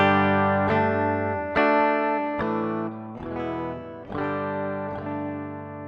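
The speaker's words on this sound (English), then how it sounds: "my guitar direct into the interface." A clean electric guitar runs straight into an audio interface with no amp, picking a slow sequence of sustained single notes and chords, each ringing out bright and close.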